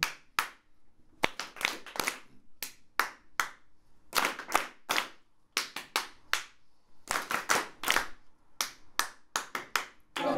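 An audience claps back short rhythmic patterns at a live performance, with crisp bursts of group clapping separated by brief pauses, loud and close, with no talking.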